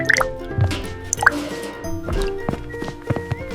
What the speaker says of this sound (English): I see oil. There is a leak.